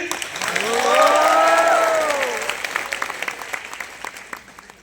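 An audience at a business seminar breaks into applause that swells, then thins into scattered claps, while a drawn-out voice rises over the start.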